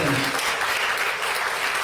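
A crowd claps steadily through a political speech praising President Julius Maada Bio, a dense, even wash of applause that holds at full strength for the whole stretch, with faint talk beneath.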